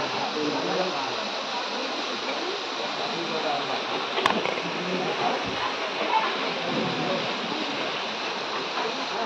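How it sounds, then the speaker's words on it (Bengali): The Kapildhara waterfall at Amarkantak in Madhya Pradesh pours down in a continuous broad rushing roar, heard at moderate level with a brief knock partway through. "এই হচ্ছে কপিলধারা। দেখুন একবারে তলায় ঝর্ণাটা পড়ছে।"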